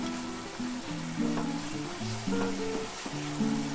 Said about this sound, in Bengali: মশলাগুলোকে ভালোভাবে কষিয়ে নিতে হবে যেন আদা রসুনের কাঁচা গন্ধটা না থাকে